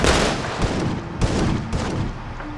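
Sustained rapid gunfire from a firefight in the Tacticool shooter video game, a loud, dense stream of overlapping shots with a few sharper bursts standing out, with no voices over it.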